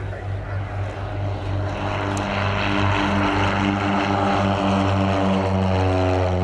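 A Royal Danish Air Force propeller aircraft, Baby Blue, takes off at the Cosford airshow with a loud steady droning engine that builds and holds close by.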